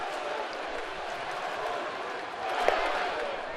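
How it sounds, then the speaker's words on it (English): Baseball stadium crowd at a 2012 AL Wild Card game chanting a batter's name, a broad, distant wash of massed voices with a brief swell near the end, heard without clear commentary over it. "You hear the crowd chanting his name"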